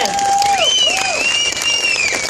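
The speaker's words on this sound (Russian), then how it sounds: "Аплодисменты!" Applause from a crowd at a motorcycle festival in the Nizhny Novgorod region, short and steady clapping with some voices and whoops mixed in.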